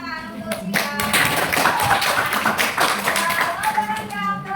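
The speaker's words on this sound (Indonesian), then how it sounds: "tepuk tangan untuk Cika" A sixth-grade math class gives a round of applause for a student, dense steady hand claps close by with a few children's voices mixed in, lasting several seconds.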